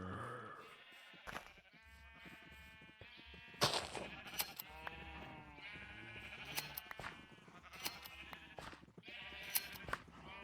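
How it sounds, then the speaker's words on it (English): Sheep bleating repeatedly in Minecraft, several wavering harmonic calls spread across the stretch, with sharp clicks and game sounds in between, loud and close. "let's go and shear some sheep."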